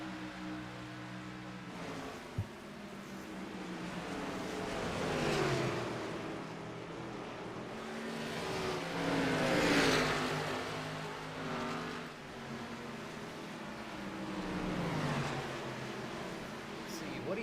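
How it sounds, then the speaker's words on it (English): Several race cars battle on the Richmond speedway, engines swelling and fading as they pass in repeated waves under steady commentary, with a constant roar between passes. "We got a 3-car battle right here as Justin Gann and Jared Lipstrewer have bot"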